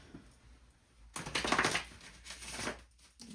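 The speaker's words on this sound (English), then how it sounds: "Let me shuffle these" A deck of tarot cards is shuffled close by, a quiet lead-in giving way to a louder papery riffle and clatter that fades into a few softer flicks, with no talking.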